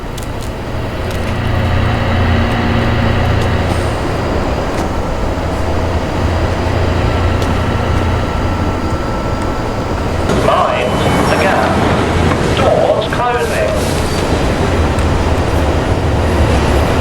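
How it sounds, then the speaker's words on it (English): A train in the video game Fallout London rumbles past as a loud, steady low roar with rattling, clattering texture, swelling with scraping bursts near the end while a voice talks over it. "We got a train."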